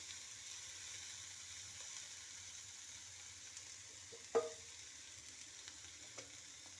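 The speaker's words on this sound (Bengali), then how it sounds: "পেঁয়াজটা একটু ভাজা হয়ে গেছে" Onion fries gently in a pan with a faint, steady low sizzle and one sharp utensil clink midway, with a softer tap near the end.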